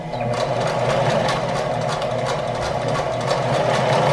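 A home sewing machine runs continuously, stitching with the presser foot guiding along a seam line, a steady close mechanical whir and rapid needle chatter throughout, with no speech.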